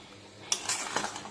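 Chicken curry with special spices being stirred and sautéed in a pan: after a quiet start, a spoon scrapes and clinks against the metal in a few close, uneven strokes, with no talking.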